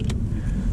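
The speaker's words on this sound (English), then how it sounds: "It's not like the old 911s. Start her up." A Porsche 911 Carrera of the 991.1 generation turns over, giving a short, close, low engine rumble with a brief higher mechanical click near the start.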